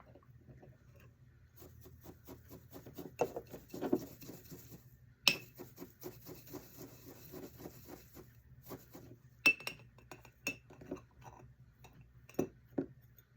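A spoon clinking and tapping against a glass while stirring a calming sleep oil blend, light irregular ticks and clinks close by over a quiet room, no talking.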